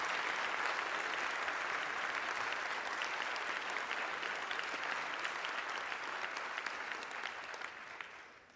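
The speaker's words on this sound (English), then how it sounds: "for this they truly deserve a big round of applause" Sustained audience applause at a live Fab25 event in Brno, Czechia, a dense steady wash of many hands clapping that holds for several seconds before fading slightly at the end.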